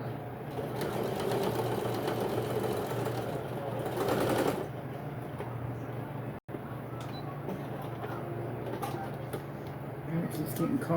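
A sewing machine stitching fabric with a steady, fast mechanical whir and a brief pause midway, close and loud, with a faint voice underneath.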